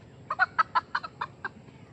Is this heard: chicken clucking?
yes